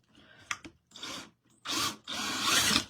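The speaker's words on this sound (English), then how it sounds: "So we're going to drill a hole." A power drill whirs in several short bursts, then runs longer, grinding through an MDF ornament up close, loud and harsh with brief pauses between.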